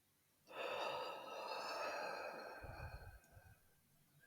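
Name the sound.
breathing in with a yawn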